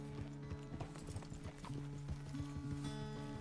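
Horse hooves clip-clop steadily beneath a rider on a ranch, rhythmic and fairly close, with a brief neigh hinted amid the steps.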